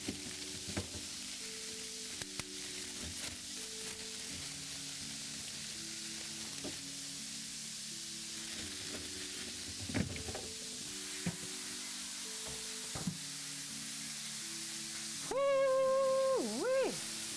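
Beef browning in a pan for a braise, with a steady low sizzle and spitting fat throughout, occasional sharper crackles, and a brief clatter of tongs near the end.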